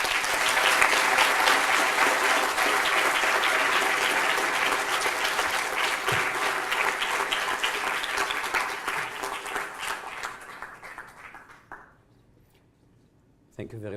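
A large audience gives sustained applause as a speaker is welcomed to the podium at an academic lecture. The clapping is loud and dense, then thins out and stops, leaving near silence before a sound starts at the very end.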